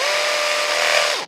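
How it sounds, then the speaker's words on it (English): A hammer drill with a 3/16 bit bores into concrete to mount a downspout clip, giving a steady, loud, high-pitched grinding whine up close that cuts off abruptly after about a second. "I'll just go ahead and drill the hole where I want my clip"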